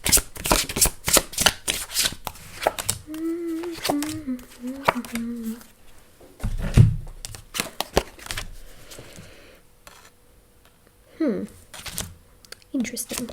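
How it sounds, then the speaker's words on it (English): Rapid riffling shuffles of a tarot deck burst in quick runs, close and crisp, alternating with a person talking in between. "See, this one I can shuffle like this"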